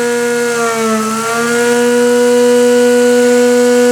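A mini magnetic window motor spins at high RPM with a loud, steady electric whine. The pitch dips slightly, then rises and holds a sustained tone with strong harmonics.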